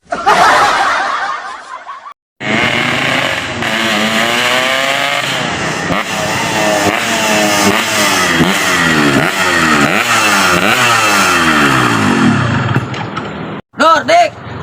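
A motorcycle engine revs over and over, its pitch sweeping up and down in quick surges, while people snicker and chuckle close by, cut by a brief gap near the start.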